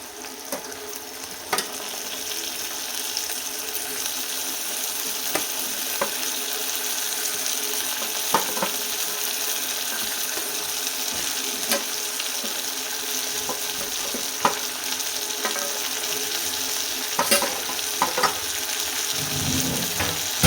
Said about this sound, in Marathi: आता ह्याला पण आपल्याला 1-2 मिनटं कमी गॅसवरती छान परतून घ्यायचं.